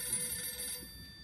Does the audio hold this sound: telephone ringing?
yes